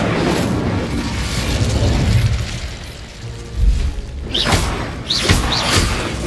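Fiery Incendio spell blasts cast in Hogwarts Legacy, a few short whooshing bursts of flame with bright crackling flares near the end, layered over a steady rumble of game ambience.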